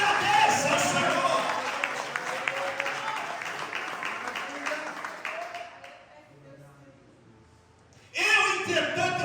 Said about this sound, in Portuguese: Alguém pode aplaudir e glorificar?